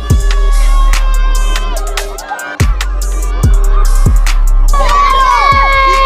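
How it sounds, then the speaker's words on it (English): Spectators at a BMX race cheer and shout loudly for a rider, excited yells and whoops ringing out close by over a deep low rumble, with a brief dip in the middle before the noise swells again. "Come on, cheer him on! Cheer him on!"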